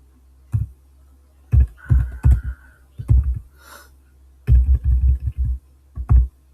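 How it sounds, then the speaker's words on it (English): Computer keyboard typed on rapidly in uneven bursts of close, crisp key clicks with short pauses between runs, heard alone without talk. "I'm a very fast typer, so I make mistakes sometimes"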